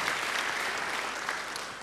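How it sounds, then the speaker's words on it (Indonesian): Congregation applause in an Indonesian church service, a brief, dense burst of many people clapping, steady and fairly loud, with no speech over it. "Beri tepuk tangan yang baik buat dia."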